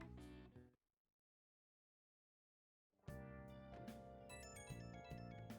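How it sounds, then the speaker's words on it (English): A phone ringtone sounds in Persona 5 Royal, a melodic electronic tune that plays loudly, drops out into silence for about two seconds, then resumes, with no talking. "Phone's ringing."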